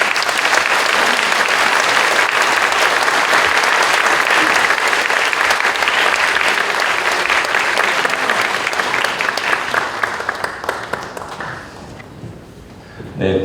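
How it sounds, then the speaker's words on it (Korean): Warm applause fills a church during a ceremony honouring a retiring pastor. Dense, loud clapping from a full congregation carries on for about ten seconds, then tapers off and fades into quiet. "박수."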